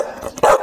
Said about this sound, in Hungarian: Morog, Hera.